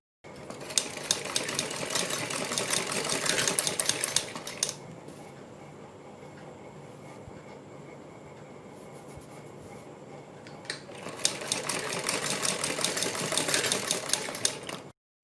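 A sewing machine stitches a neck strip onto a garment in two fast, rattling runs of rapid needle clatter, with a quieter stretch of low motor hum between them.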